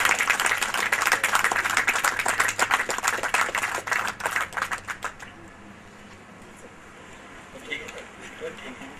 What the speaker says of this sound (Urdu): ان کے لیے تمام حضرات کھڑے ہوں اور تالیوں سے استقبال کریں